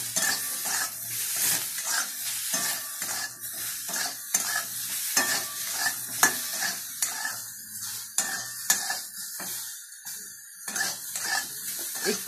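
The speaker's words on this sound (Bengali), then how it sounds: "একটু হলুদ দিলাম, একটু নাড়িয়ে নেব। আর আদা একটু পেস্ট দিয়ে দিলাম।" Turmeric and ginger paste being stirred in a frying pan for a fish dish, with a steady sizzle and repeated scraping strokes of a utensil against the metal, close and fairly loud with no talking.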